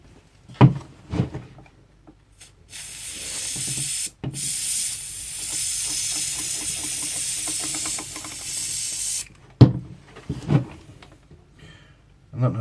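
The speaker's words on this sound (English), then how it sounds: "I'm going to try some compressed air" Compressed air blasting into an old General Electric G817 radio, a loud sustained hiss lasting several seconds between brief handling clicks and knocks, with a second shorter burst near the start.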